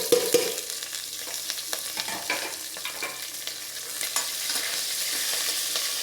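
Onion and green chili sautéed in a pan for kuska, giving a steady close sizzle with repeated scraping stir strokes throughout, no voices.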